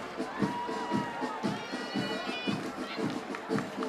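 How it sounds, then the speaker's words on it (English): Lively crowd noise at a St. Kitts 36th Independence parade in Warner Park Cricket Stadium, with overlapping voices, shouts and cheering from many people alongside rhythmic pulsing, sustained and fairly loud throughout. "we have quite a very animated crowd here at Warner Park Cricket Stadium"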